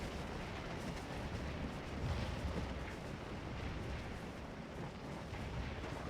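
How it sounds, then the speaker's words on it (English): Artillery guns fire on a war video game battlefield, a dense, continuous rumble of booms and crackling blasts blending into a roaring wash at moderate distance, with no talking. "Looks like these guns are doing good."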